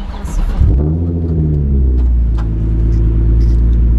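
Car engine starts with a sharp catch, then revs up and settles into a loud, deep, steady idle rumble close by, heard from inside the car; faint voices at the edges.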